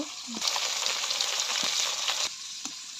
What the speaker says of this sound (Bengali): মাছগুলো আমি এখন ভেজে নিচ্ছি।